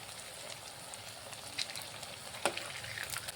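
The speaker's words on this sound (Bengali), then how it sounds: "এইভাবে আপনারা এপিট ওপিট করে ভেজে নেবেন" A suji and potato breakfast snack fries in oil over medium flame, giving a steady fine crackle like light rain, with a couple of brief clicks as pieces are turned.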